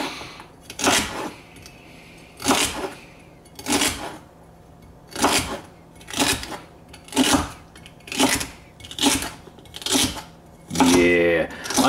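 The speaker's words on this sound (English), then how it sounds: "Using a Fury knife right there, it's serrated, it just cuts easier." A serrated Fury knife slices cabbage on a cutting board in a steady series of about ten crisp crunching chops, evenly spaced and close up, with light kitchen room tone between strokes.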